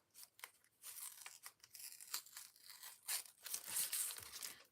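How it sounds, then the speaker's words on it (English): Washi tape being peeled off a stencil while scrapbooking, close up and quiet. The clip is a run of soft, crackly tearing and rasping pulls that come in uneven bursts, with no voices. "Watching me peel washi tape off of the stencil."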